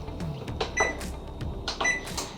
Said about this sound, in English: I'm pressing bake and start.